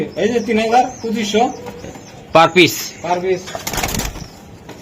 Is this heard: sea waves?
no